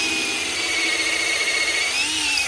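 Power drill wet drilling with water sprayed onto the bit, a steady continuous whine held for the whole span with a slight pitch shift near the end, close and alone.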